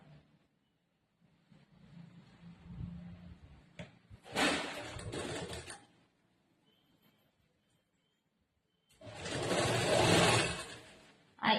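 Domestic sewing machine stitching half-inch blouse fabric, two loud continuous runs of about a second and a half each, separated by quieter handling and rustling of cloth.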